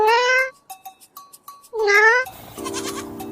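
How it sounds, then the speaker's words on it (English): A cat gives two clear, loud meows, one at the start and another a second later. Faint ticks fill the gap between them, and a noisy rustle follows the second meow. "Cat"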